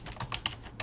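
A few quick keystrokes tap on a computer keyboard as a search is entered, soft and close, in a brief irregular burst.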